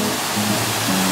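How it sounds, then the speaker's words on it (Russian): Waterfall on the Taygishonok river in the Ergaki mountains, a steady broadband rush of falling water heard close and fairly loud, continuous with no voices. "Водопад, один из водопадов на реке Тайгишонок."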